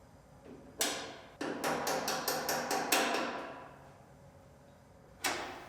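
Metal J-nuts are knocked out of the battery tray of a 2019 GMC Sierra Denali 2500HD with an L5P Duramax, giving a series of sharp, close hammer strikes: one blow, then a quick run of about eight, and a final hit.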